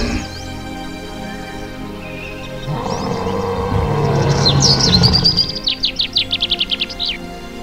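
Birds chirping in a Jurassic dinosaur scene, a run of rapid high tweets rising near the end over a rumbling ambient background, with no talk.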